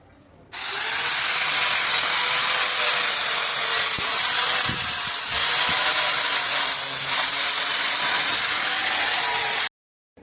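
Power grinding on the freshly cut edges of an inverter AC compressor's metal shell: a loud, harsh, continuous grind that starts abruptly, holds steady for about nine seconds with slight surges, then stops sharply.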